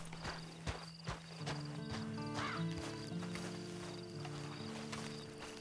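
A horse snorts and whinnies over a low droning background, with a few soft hoof thuds, in the video game Red Dead Redemption 2 Online.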